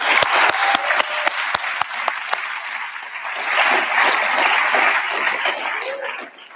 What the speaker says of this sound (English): I would first like another round of applause for Natasha